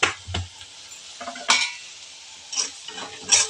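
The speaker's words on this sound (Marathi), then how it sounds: "मस्त मिक्स करून घ्या, म्हणजे कांदा तुमचा लवकर नरम पण होतो आणि लवकर भाजलाही जातो." Onions softening in a pan with a pinch of salt, stirred with a utensil: a few scraping, clinking strokes against the pan over a faint sizzle, heard alone at close range.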